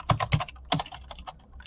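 Short burst of typing on a computer keyboard while writing Python code, with a few distinct close key clicks followed by lighter tapping.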